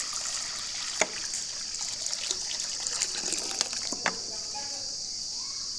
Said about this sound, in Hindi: चिड़ियों को पानी दे दिया है।